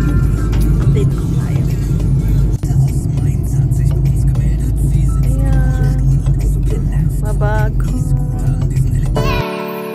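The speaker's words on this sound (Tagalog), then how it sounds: "Papakita ko sa inyo kung gano'ng mga bad traffic." Steady road traffic with car engines runs loud and close throughout, with a voice and tonal chatter over the rumble, ending in a brief change in sound.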